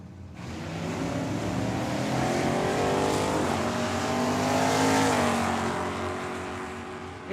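Drag racing cars, including a Mustang, launch at Tucson Dragway, a sustained loud engine roar with climbing revs and gear shifts that swells and then slowly fades.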